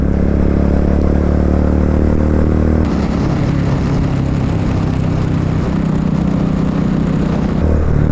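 A motorcycle cruises along the SLEX expressway, its engine droning loud and steady with wind rush, shifting in tone partway through and carrying on without speech.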